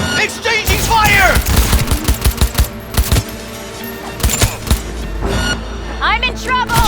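Rapid gunfire in the video game Cyberpunk 2077: dense bursts of automatic shots and sharp cracks that come in waves, loud and close, with shouted combat voices over them.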